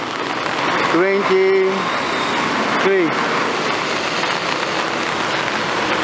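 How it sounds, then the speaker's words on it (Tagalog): Steady broadband rain hiss pours down continuously during the rainy season, loud and unbroken, with a brief voice and a tonal sound rising over it near the start and again around three seconds. "Pero hanggang ngayon, umuulan pa rin."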